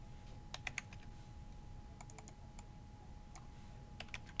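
Keys on a computer keyboard are tapped in short clusters with pauses between them while entering a date in a spreadsheet, sounding as faint, close clicks over a quiet room hum.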